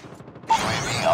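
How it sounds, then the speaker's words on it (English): A magazine change during a reload in Call of Duty Mobile, with a brief mechanical clack followed by dense, busy game noise at close range. "Changing mag."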